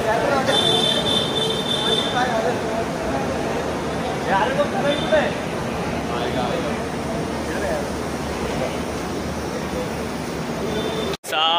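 A train rumbles steadily at a railway platform, with faint wheel squeals and a crowd murmuring around it.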